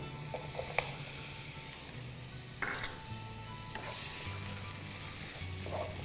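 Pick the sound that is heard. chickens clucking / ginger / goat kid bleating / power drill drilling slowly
ginger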